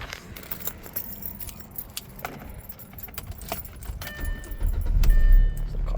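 An Audi A4 B7 engine starts and idles with a low rumble that swells near the end, after metallic jingling clicks like keys.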